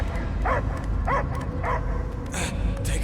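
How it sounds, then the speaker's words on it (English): A dog barks in the video game Marvel's Guardians of the Galaxy, several short sharp barks in quick succession over a constant low game hum and ambient drone. "I hear only barking."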